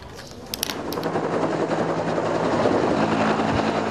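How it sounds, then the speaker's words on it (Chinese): A helicopter flies overhead during a flood rescue in a mountain tribal area, its rotor roar building and staying loud and close throughout. "直升机全力抢救"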